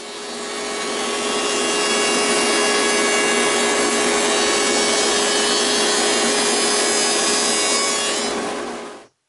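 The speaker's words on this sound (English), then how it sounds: "I'm just trying to square up this little short log" A jointer planing a short maple log to square it up: one loud, steady, close cutting roar with a dense whirring rasp that holds for about eight seconds and then cuts off abruptly, with no speech.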